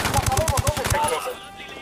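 Automatic gunfire in the tactical shooter Ghost Recon Wildlands, a rapid loud burst of about eight shots in even rhythm that stops and leaves a fading echo.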